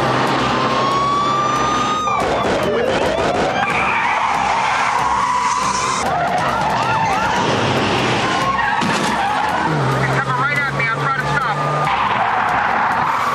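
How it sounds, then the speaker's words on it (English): Police chase footage of cars skidding and careening, with repeated loud tire squeals, engine roar and sliding screeches across the whole stretch, dense and chaotic, with voices talking over the action. "Careening cars, near misses, and deadly crashes."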